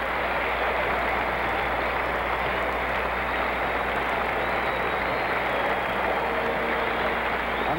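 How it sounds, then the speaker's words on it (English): A stadium crowd roars and cheers continuously through a runner's victory lap after a sub-four-minute mile, a dense, steady wash of noise from a large audience with no distinct voices standing out, as on an old broadcast recording. "Let's listen to the crowd."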